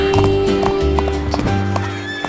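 Horses trot through a street parade, their hooves clip-clopping in a steady rhythm beneath a bright children's song with music playing throughout.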